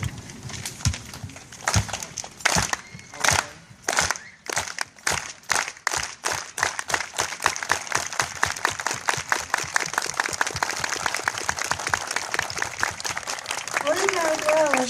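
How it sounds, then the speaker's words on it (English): An audience performs the Union Thunder clap: sharp, unified claps begin slowly with wide gaps, then steadily speed up into a rapid, loud, continuous patter of applause, with a voice audible near the end. "It's a clap that starts slow and accelerates."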